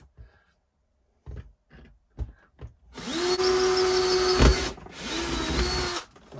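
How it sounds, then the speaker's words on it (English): Power drill boring a small pilot hole while fitting an extra plug socket: a few quiet handling knocks, then two sustained, close, loud whirring runs separated by a brief pause. "I'm going to drill a small pilot hole to make a start."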